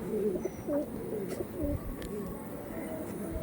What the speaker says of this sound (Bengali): এইসব পায়রা খুবই কম দেখা যায়